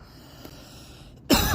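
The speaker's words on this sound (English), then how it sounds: "every time I do that fucking voice, it makes me cough" A single harsh cough bursts out near the end after a stretch of quiet room tone, loud and close to the microphone.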